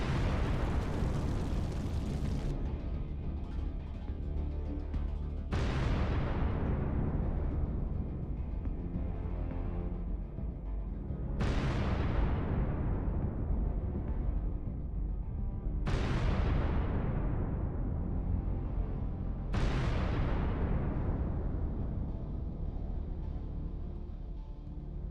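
Drone strikes hit Russian anti-aircraft missile launchers, setting off a string of large, booming explosions. Five or six heavy blasts come one after another, each with a long rumbling roar that slowly fades before the next hits.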